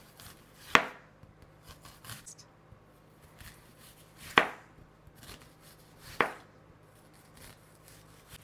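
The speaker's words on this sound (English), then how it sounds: "We're gonna slice up some onion. Just do it in rings." A knife slices a large onion into rings for a casserole, three crisp separate chops spaced a few seconds apart, close and clear over a quiet kitchen background.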